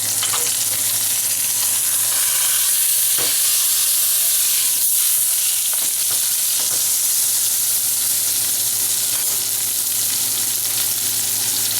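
A beef chuck roast sears in a hot pan, giving off a loud, continuous sizzle and hiss that holds steady, with a few soft clicks and shifts as the meat is turned.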